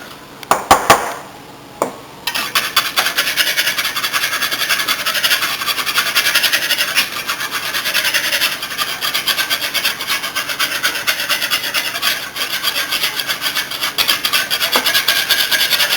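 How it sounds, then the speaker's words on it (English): Salad dressing with a few drops of Worcestershire is whisked in a bowl, making a fast, continuous scratchy rasping that stays loud and close after a few knocks at the start, with no talk. "Now we want to whisk."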